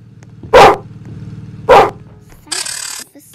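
Two sharp, close dog barks ring out about a second apart from Officer Doggy in the Roblox Piggy game, over a low game hum, then a brief electronic tone ends the moment.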